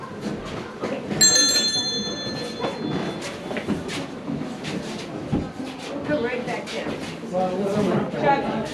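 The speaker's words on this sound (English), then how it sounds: "think I can ring this bell?" At Bran Castle in Romania, a bell is struck once with a bright ringing tone that decays over about two seconds, while people talk and react around it.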